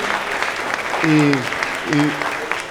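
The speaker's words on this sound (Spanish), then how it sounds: "yo pido un fuerte aplauso, por favor" Strong round of applause from an audience at a cultural talk on art and peace in a Casa de la Cultura, steady dense clapping throughout with brief voices rising over it twice.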